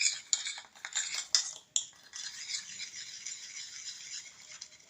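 Henna powder being mixed with coconut oil in a bowl, heard as a run of quick scraping and clinking stirs, loudest at the start and then settling into a softer, continuous rattle, with no talking.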